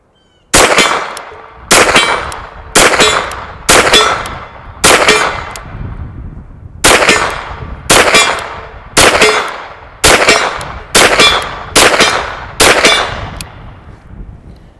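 A KelTec SUB-2000 carbine fires about twelve sharp, loud shots at a steady pace of roughly one per second, each with a ringing decay, with a short pause midway.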